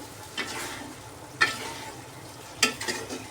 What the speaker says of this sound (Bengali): মশলাটা কষা কষা করে নেব